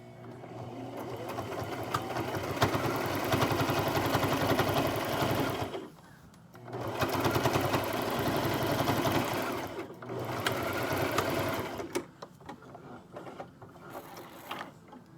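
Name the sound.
sewing machine stitching a fabric face mask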